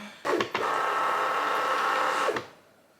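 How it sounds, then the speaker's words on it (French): A printer runs with a loud, grinding mechanical whir for about two seconds, starting with a couple of clunks and stopping abruptly. "C'est une imprimante qui fait du bruit."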